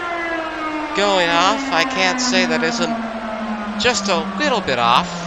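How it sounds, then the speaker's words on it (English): An air raid siren wails through a Seattle Seahawks stadium in Madden NFL 24. The long, steady tone slides slowly, with a commentator talking over it throughout. "The air raid siren going off."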